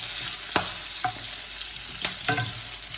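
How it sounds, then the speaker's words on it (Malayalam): Chillies frying in a generous pool of oil give a steady close sizzle, punctuated by four sharp knocks and scrapes from stirring in the pan. "അപ്പോൾ ആദ്യം ഒന്ന് അരിമുളകിനെ ഒന്ന് വറുത്തെടുക്കുക."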